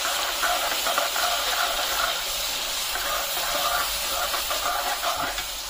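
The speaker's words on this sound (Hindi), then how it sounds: "पहले प्याज को थोड़ा सा हम भून लेंगे हल्का सा।" Onions sizzle in oil with butter for pav bhaji, a steady, loud frying hiss that stays continuous throughout.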